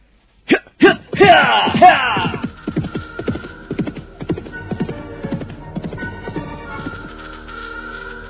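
Horse whinnying near the start, followed by a run of steady clip-clopping hooves in a radio drama, with a voice briefly speaking over the early part.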